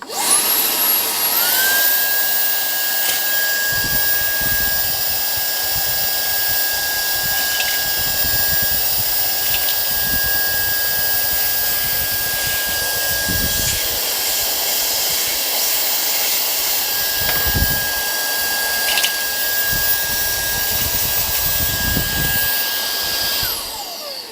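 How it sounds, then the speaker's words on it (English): A Brigii H5 140W handheld vacuum runs continuously with a loud, steady whine and airy roar, with scattered clicks and rattles as loose nuts and bolts are sucked off the floor, no talking. "if I have loose nuts and bolts on the floor, this will be a good idea to test out what my Hoover can do."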